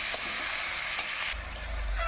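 Food fries in a little leftover fish-frying oil in a pan, a steady soft sizzle with a low rumble joining partway through.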